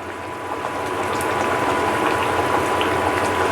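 Thin fesa fish curry broth with nigella seeds bubbles at a steady, loud boil, a continuous close-up simmering hiss with small popping bubbles.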